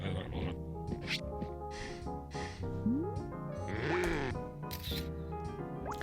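A video game character's snoring reaction, repeated nasal snorts and snore-like grunts in quick succession, mixed with other cartoonish game sounds and squeaks.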